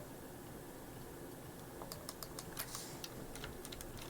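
Soft clicks of typing on a computer keyboard, a quick irregular run of keystrokes under steady background hiss, faint and near.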